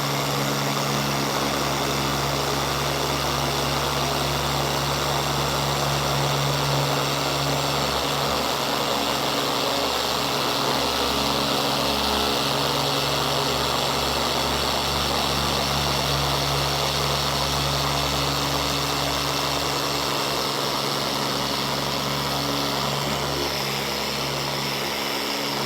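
A machine polisher buffs damaged clear coat on a car with a loud, continuous droning whir that holds steady throughout.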